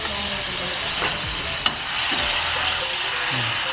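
Steak frying in a pan with garlic and rosemary gives off a loud, constant sizzle and crackle, with a few utensil scrapes and a sharp clink midway.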